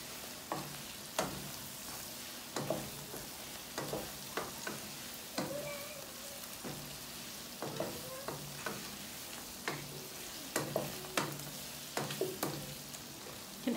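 Garlic shrimp sizzle and fry in a pan while a utensil stirs them, the scrapes and clacks coming in irregular bursts over a steady close crackle.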